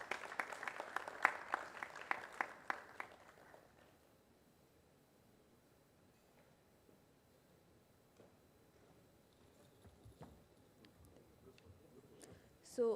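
Members of an engineering academy audience give brief applause for newly elected members, a few seconds of faint, somewhat distant clapping that fades into quiet room tone with small ticks and rustles.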